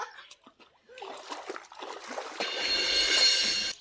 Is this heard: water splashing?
yes